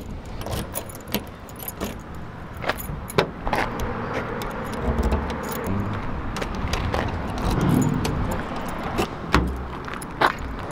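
Keys jangle in repeated short, crisp bursts near the microphone while a car is being locked, with car sounds and faint rustling between the jingles.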